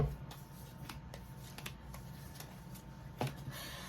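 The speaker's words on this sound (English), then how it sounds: "Let's just shuffle these cards." Soft, quick riffling of tarot cards with a few sharp snaps, shuffled close by in a quiet room, no talking.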